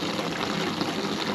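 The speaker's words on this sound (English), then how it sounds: "We should hear water." Water rushes from a garden hose through a freshly opened valve, a steady broadband hiss with no pauses, fairly faint and brief, with no voices.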